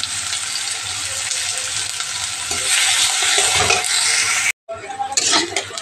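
Onions fried in a pan for a Bengali egg curry (dim jhol) with cumin, a steady dense sizzle heard up close with occasional stirring scrapes and a brief dropout near the end before the frying resumes.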